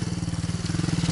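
A motorcycle engine runs with a fast, even throbbing pulse, close and fairly loud, with no other sounds.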